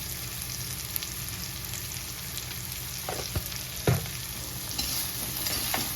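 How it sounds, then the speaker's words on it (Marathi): Cowpea leaf bhaji with salt and garlic being stirred in a pan, continuous close sizzling with scraping and a few louder clanks of the spoon, no voices. "आणि मस्त मिक्स करून घ्यायचं सगळं मीठ लसूण सगळं लागलं पाहिजे भाजीला"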